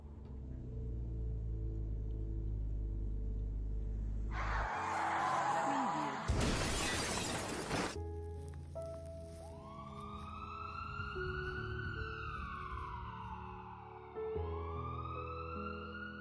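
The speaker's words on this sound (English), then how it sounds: "the scene where the character crashes into another car" Film scene of a car crashing into another car: a sharp burst of shattering glass and impact noise, followed by a loud police siren wailing in rising and falling sweeps over a steady low rumble.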